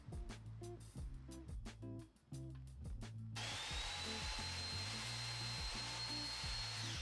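Power saw cutting wood for an on-ice screen, a steady loud whine starting partway through after a few sharp knocks and rattles, close by with no talking.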